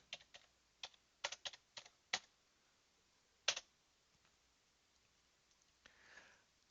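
A computer keyboard clicks in short bursts as an IP address for a Ricoh copier is typed, close and fairly quiet, with irregular keystrokes followed by pauses and a faint rustle at the end.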